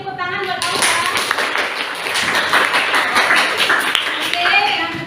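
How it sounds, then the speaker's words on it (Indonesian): Classroom applause for a student named Alfa, a burst of many hands clapping close by that starts abruptly and carries on steadily, with voices mixed in underneath. "beri tepuk tangan buat Alfa"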